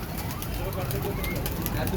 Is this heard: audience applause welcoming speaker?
no